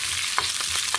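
Ingredients for a village-style okra chutney sizzle in hot oil, a short burst of steady frying with a few quick stirring scrapes.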